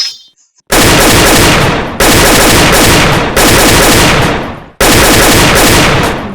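Loud AK-47 gunfire close by, four long bursts that each ring out and decay before the next, after a brief quiet start.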